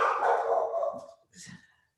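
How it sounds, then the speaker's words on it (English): A dog barks indoors in a home, a loud, drawn-out bark followed by a shorter, fainter second bark about a second later. "Sorry if you can hear my dog."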